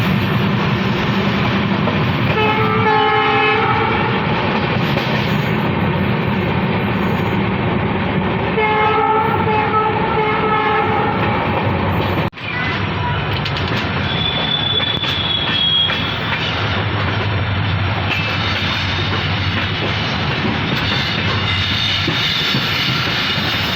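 A passenger train runs along a railway line near a junction on the Rewari–Alwar route, heard from on board. A loud continuous rumble and clatter dominate, with a horn-like tone and a wheel squeal partway through.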